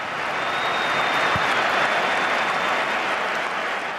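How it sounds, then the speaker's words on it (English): Real Madrid fans in the Bernabeu Stadium give a sustained, dense roar of applause for Barcelona's Ronaldinho after his goals, a wide wash of clapping that fills the stadium evenly from start to finish. "So good, even Real fans applauded."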